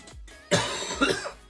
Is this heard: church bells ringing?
no